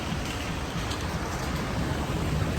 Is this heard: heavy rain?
yes